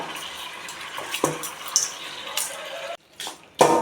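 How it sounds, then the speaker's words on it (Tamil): Chicken stirred in a pan with turmeric powder and rock salt, giving soft scraping and clinking of a spoon against the pan in a few irregular strokes, close and fairly quiet, with no talk. "இதை நல்லா ஒரு தாட்டி கலந்து விடுங்க."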